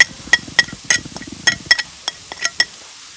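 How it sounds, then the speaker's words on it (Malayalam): A spoon stirs turmeric, black pepper, garam masala, chili powder and salt into banana blossom cutlet mixture in a pan, making irregular close metallic clinks and scrapes with short pauses between strokes. "ആവശ്യത്തിന് ഉപ്പോടിട്ട് നല്ല രീതിയിൽ ഇളക്കി കൊടുക്കാൻ"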